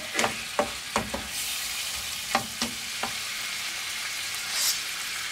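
Mixed vegetables sizzle in a hot pan for tofu curry, a constant frying crackle punctuated by several sharp spatula scrapes and taps, close and without talk.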